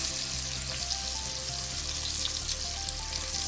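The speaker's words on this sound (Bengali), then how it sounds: "এটাকে ততটাই ফ্রাই করবেন" Potatoes frying in hot oil seasoned with turmeric and Kashmiri chili powder, a steady close sizzle with soft crackling, continuous and even throughout, no voices.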